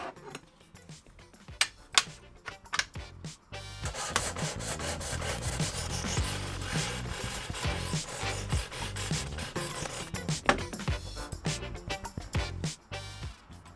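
Steady rasping strokes of an old knife, about 60 years old, being sharpened at a 20-degree angle, a few separate scrapes first, then a continuous loud grinding rub for most of the clip, with a couple of sharp scrapes near the end.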